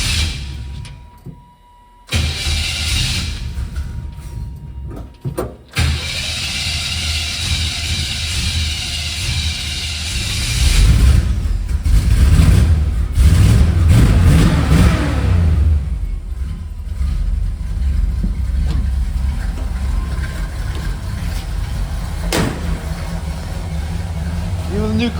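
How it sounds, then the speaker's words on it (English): A 1970 GMC truck with a new carburetor cold-starting: a brief crank, then the engine catches and revs up loudly before settling into a rough, uneven idle, with someone talking over it. "I'm kind of curious to see how the cold start is now with the new carburetor."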